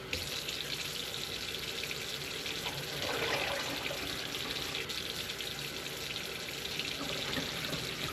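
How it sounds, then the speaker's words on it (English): Water runs steadily from a tap into a cooking pot in a home kitchen, an even splashing rush that deepens slightly midway as the pot fills, with no talk over it. "And then I'll just need basically 5 cups of water to go into that as well."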